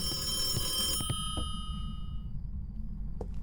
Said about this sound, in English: Was that phone?